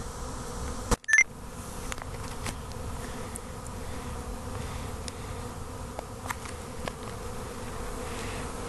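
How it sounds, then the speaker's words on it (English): Steady insect buzzing from many bees fills the air, a continuous low drone with a brief bump or handling noise near the start. "There's a lot of bees in the air too."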